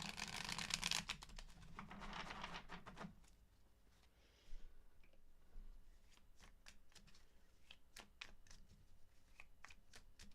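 A deck of tarot cards is shuffled in a quick riffling burst, followed by scattered soft flicks and taps as cards are handled, close and quiet, with no speech.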